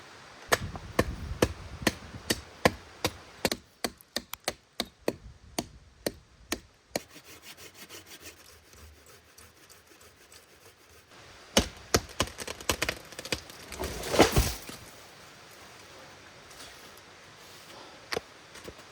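A tree being chopped down at a solo campsite in grizzly country: sharp, loud woody chops in quick irregular runs, a quieter rubbing stretch, then another burst of blows and a brief crashing rush as it falls.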